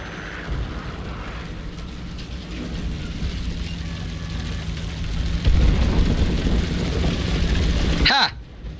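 A propeller aircraft engine in the War Thunder video game drones steadily, a low rumbling hum that swells slightly midway, with people talking over it, ending in a brief sharp burst.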